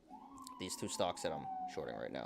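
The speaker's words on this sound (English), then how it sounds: "sorry about the sirens" Police siren wails steadily outside, a sustained tone holding under continuous close speech for the whole stretch, fairly loud though partly masked by the talking voice.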